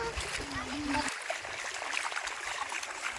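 Water splashes and ripples as people bathe in the Banas river, close and fairly soft, with a voice humming or speaking briefly at the start before the splashing continues alone.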